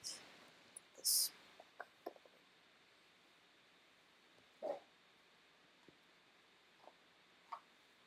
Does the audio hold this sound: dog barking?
yes